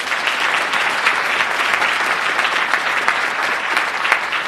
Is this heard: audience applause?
yes